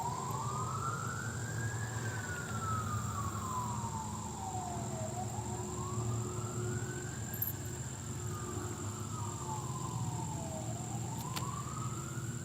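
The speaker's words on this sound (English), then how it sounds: "y'all hear the sirens?" A wailing siren rises and falls in slow, repeated sweeps over a steady low rumble of traffic, sounding at moderate distance.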